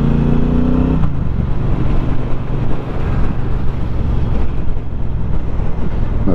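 A 2021 Triumph Speedmaster motorcycle pulls hard to overtake, its engine drone loud and steady from the rider's position with strong wind rush; a brief rising note at the start gives way to sustained roaring throttle.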